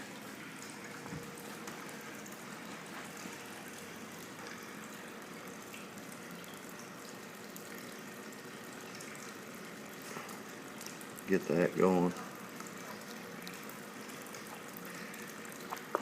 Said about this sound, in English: I'll turn this water up a bit so you can see it flow a little better.